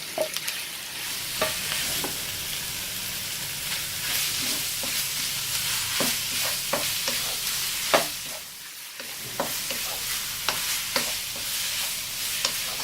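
Chicken mince sautéing in a pan for spring rolls gives a steady, close sizzle, with repeated scraping and stirring knocks from a spoon against the pan throughout.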